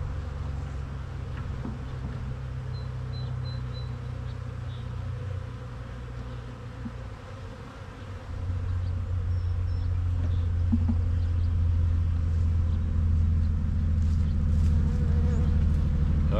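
Honey bees buzz steadily while being installed in a queen-right starter hive, a dense continuous drone close by that swells louder partway through.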